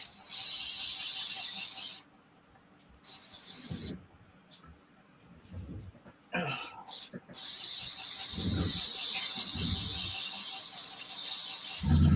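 An airbrush being flushed clean after use, spraying in long steady hissing bursts with short pauses between, close and fairly loud, with a few faint handling knocks in the gaps.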